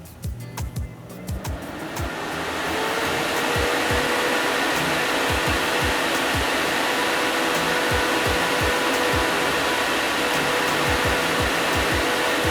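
A Vortex S-Line 8-inch inline duct fan is switched on after a few clicks and spins up into a loud, steady, broadband whoosh of rushing air that stays constant to the end.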